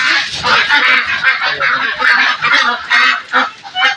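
Peking ducks on a duck farm in Bangladesh, heard as a loud, dense chorus of honking and quacking that keeps up without a break.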